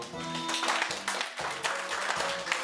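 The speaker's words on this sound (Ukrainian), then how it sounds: "давайте ще раз поаплодуємо і молодятам" Guests at a Ukrainian wedding applaud the newlyweds, a steady stretch of dense clapping from a crowd at moderate distance, sustained without a break.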